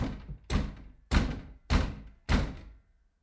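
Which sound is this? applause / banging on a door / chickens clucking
banging on a door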